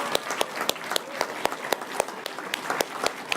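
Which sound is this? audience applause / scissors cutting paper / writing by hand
audience applause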